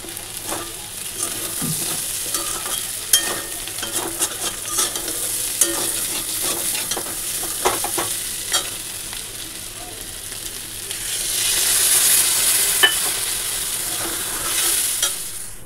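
Potatoes and onion frying in a pan with salt, turmeric, cumin and chili powder, a continuous sizzle with scattered spatula scrapes and clatter that swells louder near the end.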